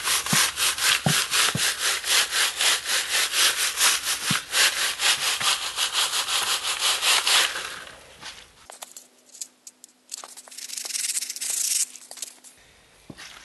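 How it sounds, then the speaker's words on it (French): Fine-mesh sieve shaken over seeds to sprinkle soil in a winter vegetable garden, a rapid rhythmic scratchy rasp for several seconds, then quieter scattered rustles and taps. "pour recouvrir les graines, franchement, je vous conseille d'utiliser un tamis avec un maillage très fin"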